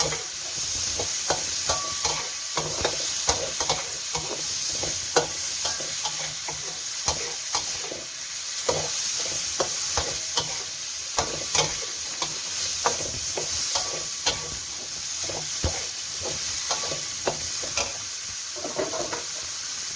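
Snow peas and pork belly being stir-fried in a hot pan with sauce, a steady loud sizzle broken by repeated scraping and clacking stirs throughout.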